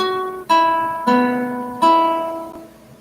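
Three plucked guitar notes on open strings, E then B then E again, from the melody of Amazing Grace, each struck cleanly and left ringing with a slow decay, played close and alone.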